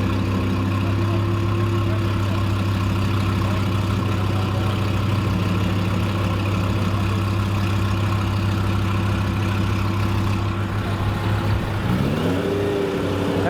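A car engine idles at a large street car meet, a loud, steady low rumble held for over ten seconds before a quick rev lifts the pitch near the end, with no talking over it.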